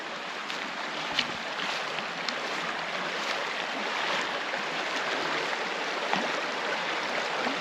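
Yackandandah Creek near Mt Stanley runs steadily at a bush campsite, a continuous close-up rush and babble of water with no talking.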